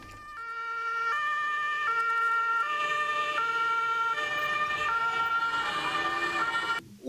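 An ambulance siren wails in a steady two-tone alternating pattern, loud and close throughout, with road traffic rumbling faintly underneath.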